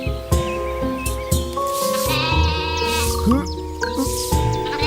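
A cartoon sheep bleats repeatedly in loud, wavering cries, mixed with music and other animated sound effects and character voices.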